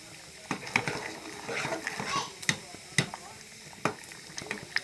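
Cut potatoes fry in a pan, a soft, steady sizzle punctuated by irregular clinks and scrapes of stirring, with a voice speaking nearby.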